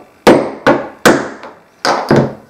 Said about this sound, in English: And then you just apply force with a hammer,